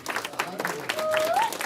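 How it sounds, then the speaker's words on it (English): Brief scattered clapping from a club crowd at a comedy night in the French Quarter, light and uneven under a speaker's voice and a whistling tone. "Clap it up for yourselves for coming out."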